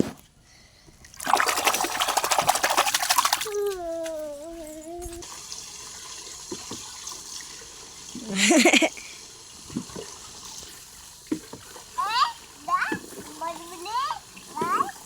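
Tap water runs into a tub in bursts of rushing flow, alternating with a small child's chatter and an adult's voice, with splashes and dribbles between.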